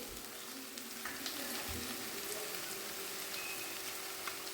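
Mango and ginger sautéing for pickle in a pan, a soft, steady sizzle and light frying crackle throughout, faint and close with no talk.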